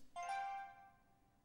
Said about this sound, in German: sein Telefon, das genau in diesem Moment auch noch losgeht.